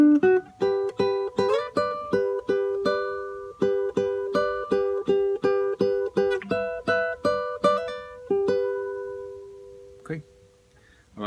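A guitar plays a Peruvian waltz phrase, a long run of bright plucked notes and double stops in a lilting rhythm that slows, with a final ringing note, close and unaccompanied.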